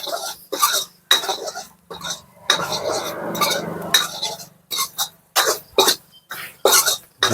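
Utensil scraping and clinking against a pan while chilly chicken gravy is stirred and mixed, coming in short repeated bursts with brief pauses between them, close by and moderately loud, with no talking.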